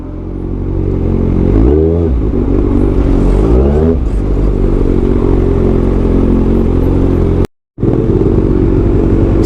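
A Kawasaki ZX-6R sport bike idles and revs in heavy traffic, its engine loud and close with two rising throttle blips early on and a steady rumble after, broken by a brief dropout near the end.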